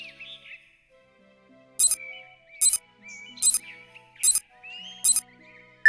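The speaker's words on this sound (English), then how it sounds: "If the sonar detects a wall, it makes a sound like this." Five short, bright electronic pings repeat at an even pace over a quiet background with faint high tones between them: a video game's sonar signal for detecting a wall.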